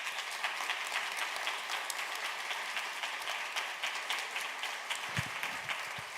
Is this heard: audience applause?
yes